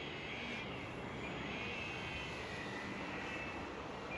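An E-Flite Extra 300 RC plane flying a slow, relaxed harrier pass, a faint steady electric motor whine with a slight pitch sway, distant and continuous with no talk.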